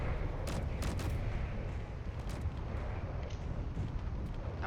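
Artillery guns firing in Space Engineers, repeated sharp shots and booms scattered over a thick, loud rumble of ongoing battle, with no voices.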